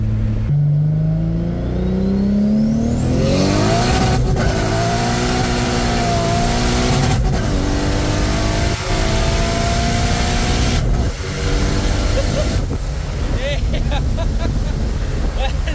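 Turbocharged Lexus IS300 accelerating hard, its engine note climbing in pitch and dropping at each gear shift, loud and close with heavy wind rush throughout.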